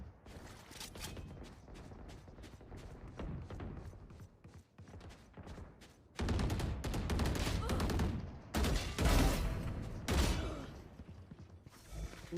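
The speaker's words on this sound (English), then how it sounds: "I shot something." Rapid gunfire from the shooter game Valorant, bursts of rattling shots running nearly continuously, louder and denser toward the end, with a voice faintly underneath.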